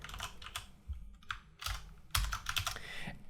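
Fast, close-up typing on a computer keyboard while PHP code is entered, uneven bursts of clacking keystrokes with short pauses; no talking.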